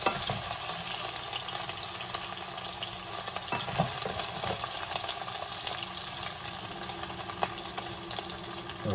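Potatoes sizzle and crackle steadily in a hot pan, a constant close frying hiss with scattered pops and light stirring, with no voices.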